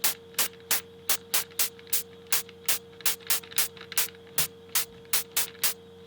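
Short bursts of synthesized white noise with a quick decay and the lows cut, made with a stock FL Studio plugin, pulsing in a rapid, slightly uneven rhythm over a faint steady tone.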